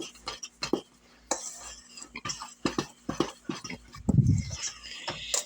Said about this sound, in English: Now I'm just going to take my fork and combine these ingredients.